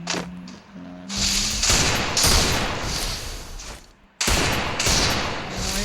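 Gunfire from the video game Free Fire during a one-tap headshot match, with loud, dense bursts of shots filling the stretch and a brief gap before a final volley.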